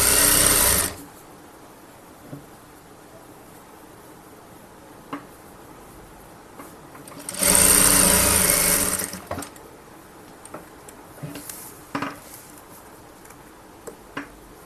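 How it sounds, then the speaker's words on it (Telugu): A sewing machine runs in two bursts while stitching piping onto fabric, a short run at the start and a longer, louder run midway, with quiet handling clicks between them and no talking. "ఇలా అడ్జస్ట్ చేసుకున్న దాన్ని మనం ఇలా స్టిచ్ చేసుకోవాలి"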